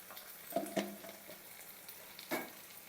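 Amla rice mixture being stirred in a pan, quiet scraping strokes and a few soft clinks against a low background sizzle, with no voices.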